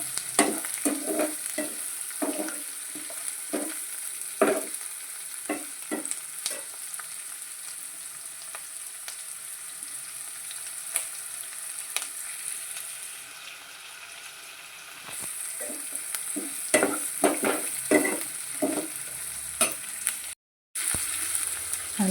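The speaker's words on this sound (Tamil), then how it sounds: "நல்லா ப்ரௌன் ஆகிற வரைக்கும் வணக்குங்க." Bread upma ingredients frying and being stirred in a pan until brown, a steady close sizzle with repeated spoon scrapes and clicks, easing midway then resuming, with no talking.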